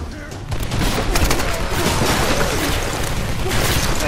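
Rapid gunfire from a Tomb Raider game battle, a loud dense volley of shots and bangs that continues steadily for several seconds over a busy game soundscape.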